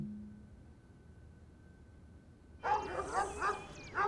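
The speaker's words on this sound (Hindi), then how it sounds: "कुत्ते।" A dog barks after a quiet stretch, giving several close, clear barks in a quick uneven rhythm.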